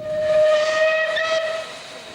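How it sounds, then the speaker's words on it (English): A rebuilt Bulleid Pacific steam locomotive, 34027 Tor Valley, on the Nene Valley Railway sounds a loud, close whistle. The steady tone lasts about two seconds over a bed of hissing steam, then fades. "rebuilt Bulleid Pacific 34027 Tor Valley"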